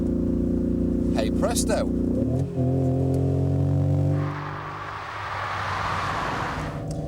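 A simulated V8 engine sound plays through the stereo of a Toyota Corolla, a deep steady burbling drone that rises to a rough, hissing rev, with someone speaking briefly inside the car.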